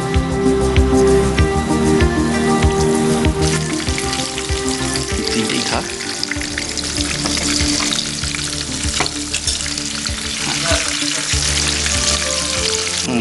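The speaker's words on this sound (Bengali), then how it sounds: "একবার নিয়ে ডিপ ফ্রাই করব" Batter-coated fish for Fish Amritsari deep-fries in hot oil, a loud, dense, continuous bubbling sizzle with rain-like crackle throughout, close up and without speech.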